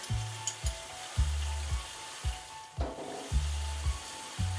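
Garlic and chicken frying in butter in a pan, a steady close sizzle broken by a regular rhythm of stirring scrapes about every half second.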